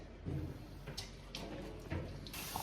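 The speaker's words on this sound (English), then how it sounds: "Open up all the faucets." A few clunks and knocks, then water starts gushing from an opened faucet in a steady hiss near the end.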